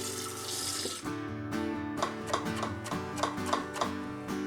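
Tap water runs over pepper seeds and pith as they are rinsed, a close splashing stream under soft background music with no talk.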